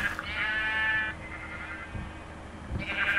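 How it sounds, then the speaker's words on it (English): Sheep in the video game Minecraft bleat in two drawn-out, wavering calls at the start and end, with a quieter stretch between and faint game thuds underneath. "There's a lot of sheep over here."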